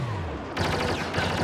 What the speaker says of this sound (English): That was a shotgun he was using.